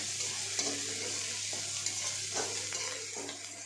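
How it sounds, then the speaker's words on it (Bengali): Ginger and garlic sizzle steadily in hot oil in a pan, a dense continuous crackle close to the ear, with soft scraping stirs every second or so and no voices. "আদা রসুন এই যে দিয়ে দিচ্ছি। আমার একটু ভাজা ভাজা করে নয়"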